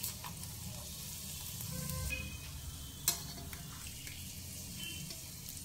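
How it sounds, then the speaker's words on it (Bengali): Sabudana papad frying in hot oil on a medium flame gives a soft, steady sizzle with a few light clinks, faint and without talk. "এবার মিডিয়াম ফ্লেমে ভেজে নেবেন।"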